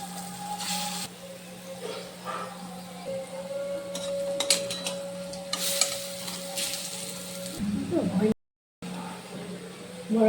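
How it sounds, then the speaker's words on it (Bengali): Mung dal fritters (bora) frying one by one in hot oil, with a steady sizzle, occasional stirring and utensil clinks at close range, and a voice faintly present. "এবার আমি একটা একটা করে ভেজে নিচ্ছি।"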